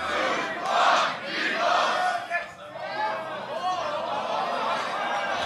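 Audience at the Grand Beatbox Battle 2019 semi-final shouting a countdown together, a loud crowd roar in a few swelling bursts, followed by scattered cheering and chatter.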